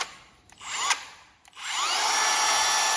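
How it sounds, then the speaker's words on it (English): A battery-powered drill motor whirs briefly, stops, then spins up again and runs steadily at a high, even pitch, loud and close, with no talking. "You can do it quicker by running the drill"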